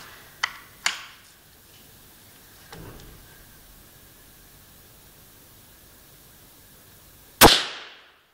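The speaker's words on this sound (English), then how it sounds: "I'm going to shoot it with some Winchester Super 8 high velocity hollow points." A .22 rifle fires a Winchester Super 8 high velocity hollow point at a can: one sharp, loud crack near the end with a fast decaying tail, after a quiet stretch with a couple of small clicks earlier.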